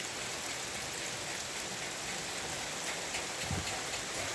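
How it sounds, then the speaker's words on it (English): Steady rain falls outside, giving a continuous dense patter with no breaks and no voices. "It's just raining."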